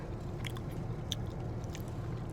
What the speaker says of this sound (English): Has a nice crunch with it, with the almonds.